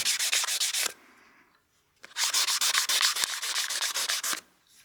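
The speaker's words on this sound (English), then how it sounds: "I'm just going to sand this and try and get rid of some of these sanding marks" Sanding a turned wooden bat house ornament with quick back-and-forth scratchy strokes, in two bursts separated by a short pause, close and fairly loud.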